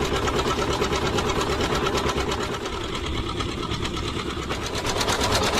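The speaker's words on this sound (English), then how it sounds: "That's a John Deere tractor using a power takeoff to power up that harvesting machine." A John Deere tractor's power takeoff drives a harvesting machine at a threshing show in Edgerton, Wisconsin, making a loud, continuous, rapid rhythmic clatter and mechanical whir that stays steady throughout.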